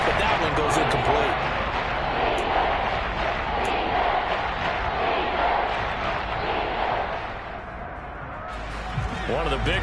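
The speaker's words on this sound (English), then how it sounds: "the crowd getting into it as we come up on a big third down" A large football stadium crowd at a Dolphins vs Chiefs Week 17 game roars in a sustained wash of cheering and yelling, swelling then slightly fading, with a commentator talking over it.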